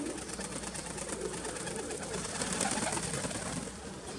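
A young pigeon, heard outdoors in still air, comes through faintly amid a dense, steady rustling background that continues throughout.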